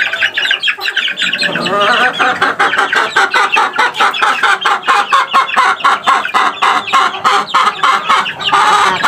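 Backyard chickens, a mother hen with her chicks, cluck in a rapid, loud, close run of pulsing calls that continues steadily with slight variations in pitch.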